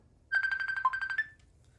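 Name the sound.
phone ringtone in the video game Farm Together 2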